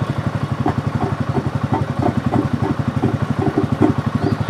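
A Kawasaki Mule utility vehicle engine idles close by with a steady, rapid, throaty gurgle and clattering pulses, seeming to come from under the dashboard. No voices.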